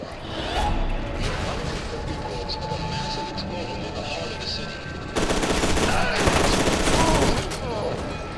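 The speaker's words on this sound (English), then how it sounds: "Machine gun." Rapid automatic gunfire from the shooter game F.E.A.R. 2: Project Origin, dense and continuous for the whole stretch and growing louder and harsher after the midpoint, with no voice over it.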